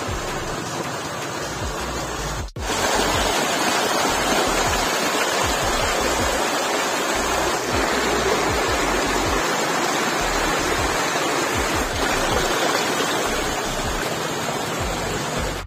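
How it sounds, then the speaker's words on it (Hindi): Water pours steadily over a dam toward a waterfall at Kokan Ghati near Dallirajhra, Balod, Chhattisgarh, a loud continuous rushing roar with a brief dropout early on, no voices. "ये जो पानी है दोस्तों सीधा जाता है इधर होते हुए तांदुरा जलाशय की ओर चला जाता है"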